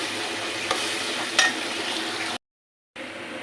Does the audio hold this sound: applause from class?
no